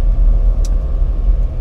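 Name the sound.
Lamborghini LM002 engine while driving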